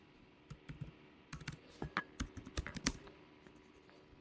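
Quiet bursts of clicky key presses on a computer keyboard, irregular and close, with no one talking.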